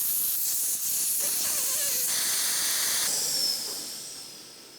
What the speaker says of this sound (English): Remove the old valve and deflate the tyre.